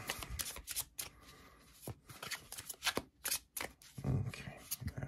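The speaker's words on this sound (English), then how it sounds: "that's actually messy shuffling on my part" A deck of tarot cards is shuffled by hand in a messy, uneven way, with quick riffling bursts and soft slaps, close and fairly quiet, and no talking.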